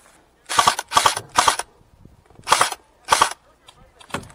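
Airsoft guns firing during a skirmish in a village-style field, heard as short sharp pops in quick clusters of two or three, spaced by brief quiet gaps, fairly close and with no talking.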